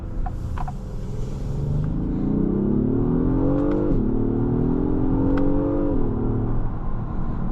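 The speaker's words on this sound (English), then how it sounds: "very nice and smooth acceleration from the MDX Type S." A 2026 Acura MDX Type-S accelerates smoothly at night, its engine note climbing through two upshifts with a steady whir and road rumble heard from inside the cabin.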